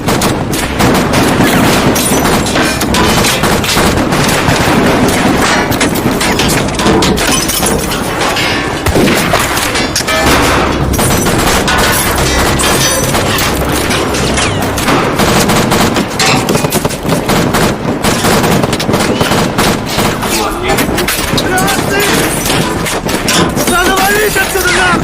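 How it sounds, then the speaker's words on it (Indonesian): A gunfight between two mercenary squads in a war film: continuous loud, dense gunfire and bursts that run for the whole stretch under narration. "terjadilah baku tembak di lokasi tersebut antar dua kelompok pasukan bayaran"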